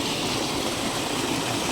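Water flows through a channel in a farming village near Sirkazhi, a steady close rushing wash with no voices.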